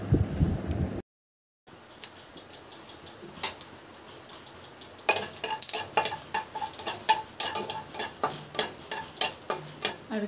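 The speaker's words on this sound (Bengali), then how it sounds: "শুধু আগে ভাজাগুলো করে নিচ্ছে তারপর তরকারিটা করবে" Slices of bitter gourd and pumpkin fry in a pan, a low sizzle joined after a brief gap by rhythmic scraping strokes of a spatula that grow louder and steadier toward the end.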